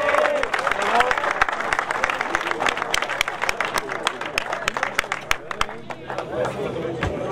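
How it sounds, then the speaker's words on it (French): A crowd applauds the Class A podium finishers at a 100-minute endurance race event at Spa-Francorchamps. The clapping is dense and sustained for the whole stretch, with some chatter mixed in. "On les applaudit s'il vous plaît."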